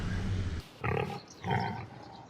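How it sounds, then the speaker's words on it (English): Pigs in Farming Simulator 25 give three short, close grunts with brief quiet gaps between them. No one talks. "Well, it's early morning in March, and look at my pigs."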